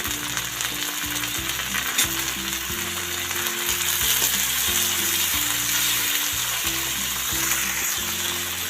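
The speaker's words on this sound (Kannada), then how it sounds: "ಈ ಟೊಮೊಟೊ ಹಾಕ್ತಾಯಿದ್ದೀನಿ." Tomatoes hit a hot pan for a cauliflower curry and set off a steady, close broadband sizzle lasting throughout, with rhythmic tonal music playing underneath.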